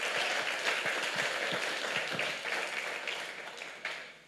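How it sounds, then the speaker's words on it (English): An audience at a real estate masterclass session on open houses and client events claps together, a dense, fairly soft round of applause that tapers off toward the end. "Give yourself a round of applause for being here today."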